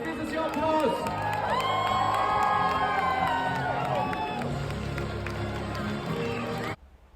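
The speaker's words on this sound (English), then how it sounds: "This is your applause." Graduates at a university graduation ceremony in Berlin cheer, whoop and shout together after tossing their hats, a loud, continuous crowd roar with scattered clapping that cuts off abruptly near the end.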